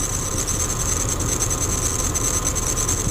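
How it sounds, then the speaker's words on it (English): Wood gas powered motor idling super smooth and slow, a steady low rhythmic chugging with a constant hum, close and even throughout, no voices. "That, my friends, is Wayne Keith's wood gas motor, and it's idling super smooth and slow for you"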